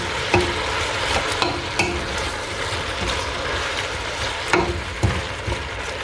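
Carrots and peppers frying in a pan with spinach, stirred with a utensil: a steady loud sizzle with scattered scrapes and knocks against the pan, close, with no talk.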